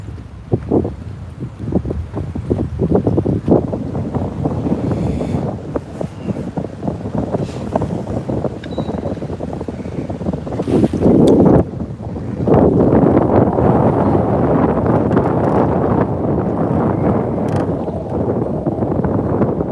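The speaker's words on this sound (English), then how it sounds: "the wind is blowing a lot heavier out here where I'm at" Strong wind on a lake buffets the microphone from a bass fishing boat, a loud, continuous roar with gusty surges and rushing water, growing heavier toward the end, with no talking.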